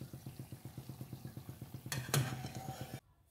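Jaggery gulgule fritters fry in hot oil, a low rhythmic bubbling sizzle with a few sharp clinks of a metal utensil against the pan near the end before the sound cuts off.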